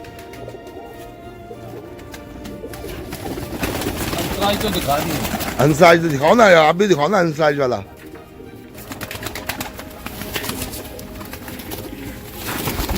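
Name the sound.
Rampuri pigeons cooing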